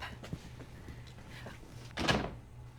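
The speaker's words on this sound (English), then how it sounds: "a closed door." A door closes in an office with a single solid thunk near the end, preceded by faint handling sounds in a quiet room, with no talk.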